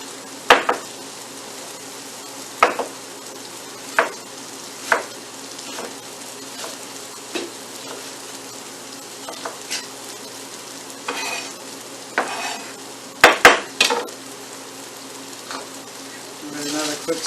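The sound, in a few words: stirring diced red onion, peppers and corn in pan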